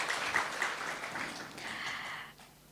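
Soft applause from an audience at a spiritual talk, a steady wash of light clapping that thins out toward the end, moderately distant.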